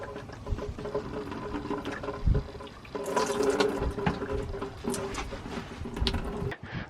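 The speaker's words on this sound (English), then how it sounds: "Just try to get it, you know, flushed out of these motors." Water splashes and pours as a drowned DJI Mavic drone is flushed to clear its motors aboard a sailboat, an uneven run of trickling, gurgling bursts that swells in the middle and cuts off abruptly near the end.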